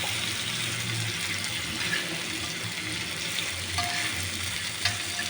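Kola fish fries in a shallow pan, giving off a steady, dense sizzle of hot oil. A few faint clinks of a utensil sound close by, with no talking.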